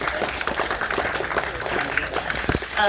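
An audience at a Tamil speech event gives a round of applause, a steady dense patter of many hands clapping throughout the short stretch, with a faint voice near the end.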